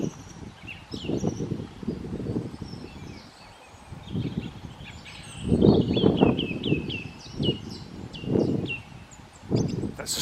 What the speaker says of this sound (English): That's a song thrush singing away up there.